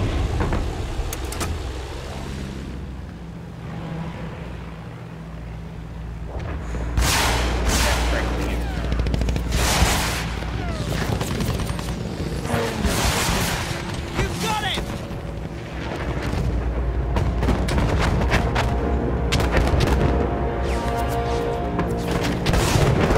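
Gunfire and heavy booms from a Battlefield video game assault on flak gun positions. Dense bursts and explosions roll on throughout, loud and continuous, with shouted voices mixed in.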